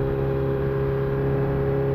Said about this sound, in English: I'm gonna keep it revving high. I'm not gonna shift gear, because I wanna hear all that.